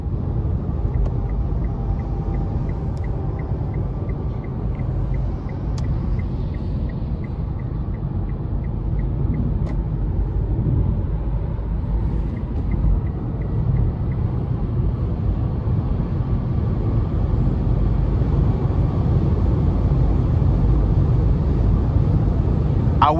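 A 2015 Nissan Leaf SV electric car accelerates hard with eco mode off, giving a steady low rumble of road and wind noise that builds slightly over the run, with no speech.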